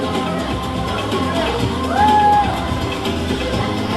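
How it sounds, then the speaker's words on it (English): Wedding guests keep up loud, steady applause and cheering for the bridal party, with scattered whoops and a brief shout rising near the middle amid crowd chatter. "Another round of applause."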